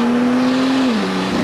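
Car tires spinning in a burnout: a loud, steady engine roar with a sustained high drone that dips slightly near the end, continuous and close.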